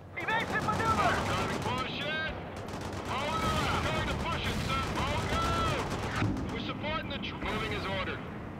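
Gunfire and incoming artillery rumble through a World in Conflict battle, with dense crackling shots and heavy blasts running throughout while voices talk over the combat.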